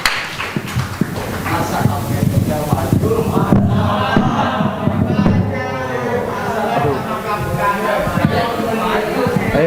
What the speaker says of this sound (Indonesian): Tepuk tangan dulu buat Cai dan Agam.